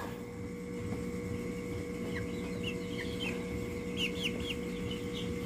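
A battlecock gamecock gives several short clucks over a steady humming background, soft and moderately close, with no voices.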